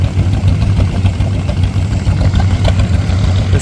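Tractor engine running at a plow day at Indian Neck Farms in Hobbsville, North Carolina, a loud close rumbling idle with steady low pulsing throb and no talk.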